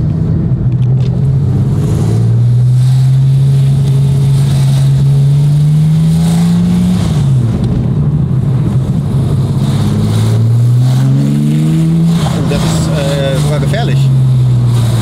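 Loud car engine idling and revving around 1000 rpm, a deep droning rumble that rises and falls in pitch up close, with voices talking over it throughout.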